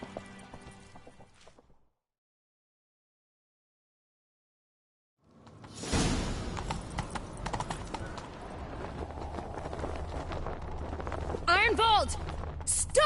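In the video game Witcher 3, a horse gallops after a few seconds of silence, rapid rhythmic hoofbeats pounding up close and loud under a rumbling game soundscape, with voices speaking over the ride.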